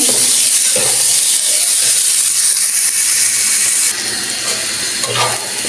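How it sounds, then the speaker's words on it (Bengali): Onions and garlic fry in a pan with a loud, steady sizzle and hiss that stays close and continuous throughout, with faint stirring scrapes and no talking. "এখন আমি পেঁয়াজগুলো দিয়ে দিব এখানে রসুন পেঁয়াজ একসাথে বাজে নিব"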